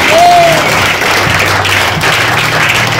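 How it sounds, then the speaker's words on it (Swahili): Congregation applauding for Jesus at a church healing service, dense continuous clapping that fills the whole clip, loud and close. "Yesu makofi."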